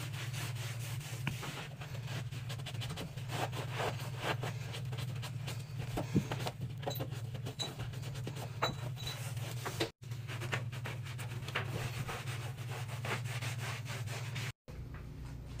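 Baseboards are scrubbed during a deep house clean, a continuous close rubbing and swishing with steady back-and-forth strokes, quiet and without talk, broken by two brief cuts.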